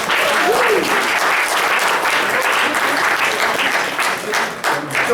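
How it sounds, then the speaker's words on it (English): Loud, sustained audience applause for a panel at a medical conference, dense clapping from a sizable crowd holding steady for several seconds before easing slightly. "One more round of applause."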